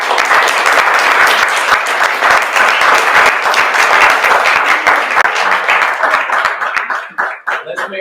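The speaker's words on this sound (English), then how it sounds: "give a wonderful round of applause for Robin Sharp" An audience gives dense, sustained applause for teacher Robin Sharp at a chamber music masterclass. The clapping stays loud for about seven seconds, then thins out and dies away.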